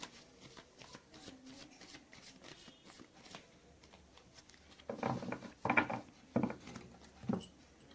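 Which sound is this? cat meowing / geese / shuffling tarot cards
shuffling tarot cards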